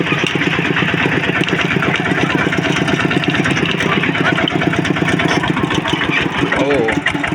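A farm tractor engine idles with a steady, rhythmic mid-pitched chug on a trip toward a market in Laos, loud and close throughout while a person talks over it.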